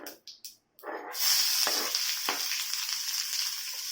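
Tomatoes dropped into a hot pan of rice spluttering in oil, a few sharp bursts at first and then a loud, steady close sizzle with stirring scrapes.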